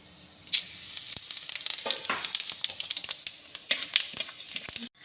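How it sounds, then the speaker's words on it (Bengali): Whole garam masala and cumin crackle in hot oil with dried chillies and bay leaves for Rajshahi chicken, a loud, steady sizzle with sharp pops and stirring that cuts off abruptly. "এবার দেব গোটা গরম মশলা, দেব গোটা জিরে"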